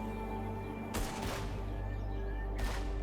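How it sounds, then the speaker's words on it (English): Gunfire in the zombie survival game HumanitZ, two sharp broadband bursts about a second apart heard at a distance over a steady droning game ambience. "There's more gunfire behind me."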